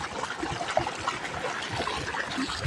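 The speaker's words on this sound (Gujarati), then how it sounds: "બે મોટરમાંથી પાણી આવે, જોઈ લો ફોર્સ પાણી" Forceful borewell water from two motors gushes and splashes on a farm in the heat, a steady close churning flow with bright dribbling splashes and no talk.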